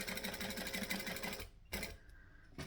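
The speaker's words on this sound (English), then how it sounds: "So we're going to stitch straight across here and then back stitch when we get to the end." A sewing machine stitches a straight seam with a back stitch at the end: a steady, close, rapid mechanical whir that stops, starts again briefly, pauses, then resumes.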